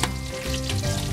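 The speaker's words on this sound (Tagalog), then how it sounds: "Gigisa lang natin ulit ang bawang" Garlic sautés in a hot pan, a loud close sizzle of crackling oil that holds steady through the short stretch, with nothing else over it.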